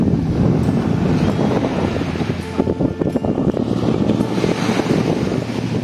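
Wind and surf on a quiet beach in Phuket, Thailand, a constant loud roar of gusts buffeting the microphone over the low rumble of breaking waves, with no talking.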